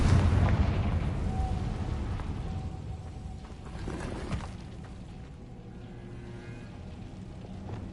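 A Confringo spell explosion from Hogwarts Legacy bursts loudly at the start, then a rumbling, crackling tail fades under steady background game ambience, with a second, softer burst midway.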